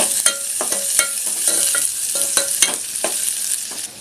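Onion frying in a pan over medium heat while a spoon scrapes and stirs it, a run of sharp rhythmic clacks and scrapes over a constant hissing sizzle, near and fairly loud.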